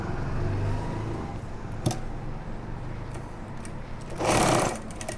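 Sewing machine stitching a pocket onto pajamas, a steady close mechanical hum running throughout, with a sharp click near two seconds and a brief louder burst toward the end.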